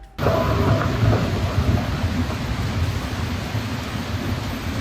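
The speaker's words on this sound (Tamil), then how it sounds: "போரிஸ் அப்படிங்கிற ஒரு புயல் காரணமாக பெய்து வரும் கனமழை" Heavy rain from Storm Boris pours down steadily in central Europe, a dense, loud, continuous roar of rainfall with storm noise that starts abruptly and holds without pause.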